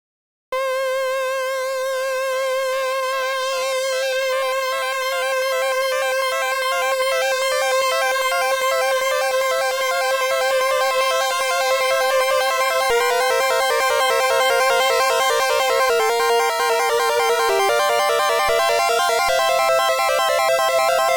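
A Commodore 64 SID chiptune played through the SID Play 3 player on Windows: a bright, buzzy synthesized lead melody over steady pulsing tones, loud and continuous with no talking.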